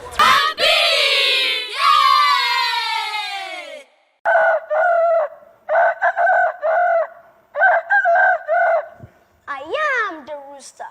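A boy imitates a rooster with his voice, giving two long rising-and-falling cock-a-doodle-doo crows, then a run of short clucking bursts and a final squawk, loud and close.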